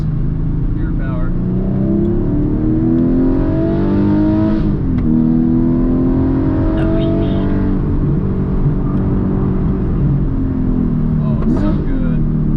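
Porsche 718 Cayman GTS 4.0 flat-six engine revving hard through rev-matched downshifts, loud and close from the cabin with rising and falling harmonic sweeps, under a driver talking throughout.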